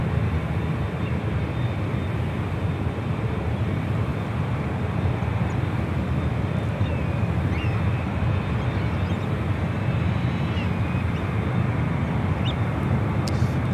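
A JetBlue Airbus A321 starts its takeoff roll down runway 10 right at San Francisco airport, a steady broadband jet roar holding even and loud throughout, with no talking over it.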